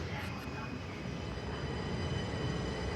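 An SNCB Class 08 electric multiple unit train runs on the line to Brussels Airport with a steady rumbling roar of wheels and motors, heard from inside the carriage, close and continuous.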